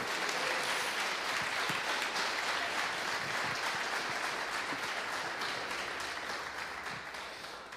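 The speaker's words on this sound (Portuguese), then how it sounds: "Bate palmas para Jesus" Church congregation clapping for Jesus at a Portuguese-language worship service, steady dense applause from many hands filling the room, continuous and fairly loud throughout and easing slightly toward the end, with no talk over it.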